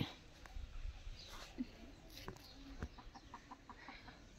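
A farmyard chicken clucks in short, soft bursts close by, with a few quiet background noises between calls.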